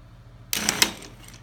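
An industrial single-needle sewing machine with a roller foot stitches two layers of heavy-duty vinyl, a short burst of rapid mechanical clatter lasting about half a second, close and alone.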